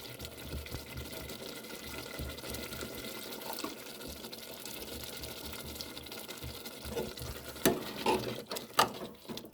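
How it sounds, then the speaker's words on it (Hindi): Water is poured from a glass into mutton korma in a pan, a soft continuous splash and bubbling that rises into louder sloshing near the end. "अब इसमें डालते हैं हम 1 गिलास पानी।"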